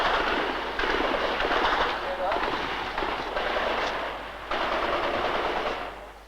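Gunfire and artillery during street fighting between rebels and tanks near a pagoda in Vietnam: loud, sustained bursts of rapid automatic fire with heavier booms, dense and continuous, separated by short near-pauses.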